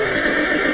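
A horse at an Icelandic horse farm gives a loud, close, brief whinny on its own.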